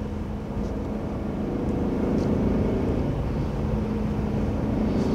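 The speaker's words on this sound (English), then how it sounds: "there's just no doubt that engine will put a smile on your face" A pre-owned 2017 Audi Quattro engine running with a steady, loud low-pitched rumble and drone, close by and unbroken for several seconds with no talk.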